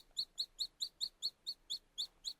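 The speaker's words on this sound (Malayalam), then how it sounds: "കുഞ്ഞു പക്ഷി സന്തോഷത്തോടെ ചിലച്ചു" A little bird chirps about ten times in a quick, evenly spaced series of bright, high tweets, quiet and alone with no other sound around it.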